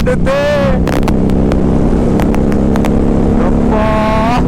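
A Harley-Davidson motorcycle engine runs loud and close with a continuous heavy rumble, and brief rising whines pass over it near the start and the end.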